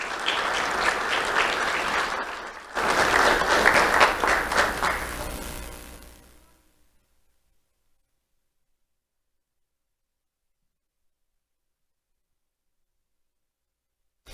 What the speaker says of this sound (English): Let's have a round of applause for Ian Diaz.